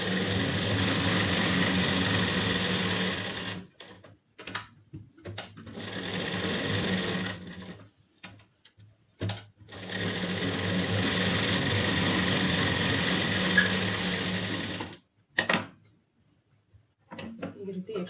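A sewing machine stitches a strip of fabric for a blouse lining in runs of a few seconds each, with short pauses between bursts, its steady whirring motor loud and close.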